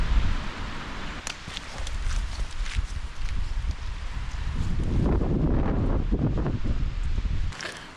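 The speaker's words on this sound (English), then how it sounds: "Another windy, moody, rainy and possibly snowy camp." Gusty wind of up to 76 mph buffets and roars across the microphone at a crag camp in Northumberland, with rustling and scattered knocks, swelling louder in the second half.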